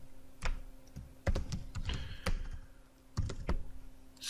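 Code being typed on a computer keyboard while building a shopping-cart object in a programming demo: irregular bursts of close, crisp key clicks and thumps, with short pauses between clusters, alone without talk.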